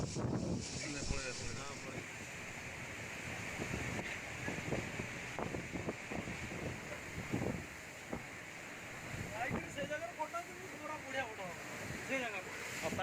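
Strong wind buffets the microphone on the coast during Cyclone Amphan, a continuous low roar over a rough sea, with a few faint knocks and gusts scattered through it.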